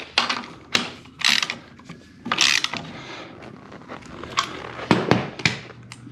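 Ratchet wrench snugging a 21 mm nut during rear tire installation on a KOMOTO X1500 electric snow scooter: several short bursts of clicking ratcheting, close and clear, separated by brief pauses.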